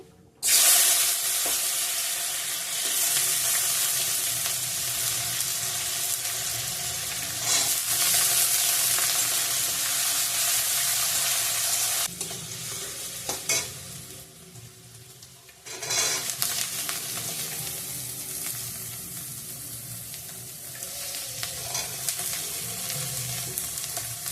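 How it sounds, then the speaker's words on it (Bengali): Carrots and capsicum frying in ghee make a loud, continuous sizzle with intermittent stirring and scraping against the pan, close up, briefly dipping in volume midway before resuming, with no talking. "ক্যাপসিকামগুলো একটু ঘি দিয়ে দেবো এখন বাকিটা পরে দিয়ে দেবো গাজরগুলো ভেজে নিব এখন"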